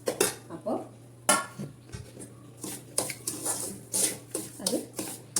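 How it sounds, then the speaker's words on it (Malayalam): A metal spoon stirring semolina and grated coconut roasting in ghee in a pan for rava ladoos, repeated close scraping and clinking strokes in an uneven rhythm over a low steady hum. "തേങ്ങയും റവയും കൂടി നല്ലപോലെ വറക്കണം"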